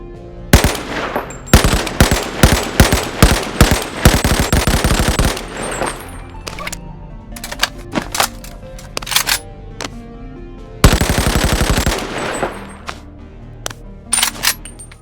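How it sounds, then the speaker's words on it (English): Loud bursts of automatic fire from an AK-12 assault rifle in the VR game BONELAB, several rapid strings of shots with short pauses and a long burst near the end, alone without talk. "I have an AK-12 right here, a modern version"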